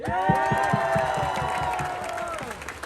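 A crowd at an outdoor AAPI rally against hate applauds and cheers, with rhythmic clapping, sustained shouts and whoops rising together, loud and lively for a few seconds before easing off.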